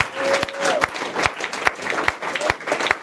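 A church congregation applauds and acclaims Jesus during a worship service, with steady clapping and sharp louder claps under shouted voices and acclamations throughout.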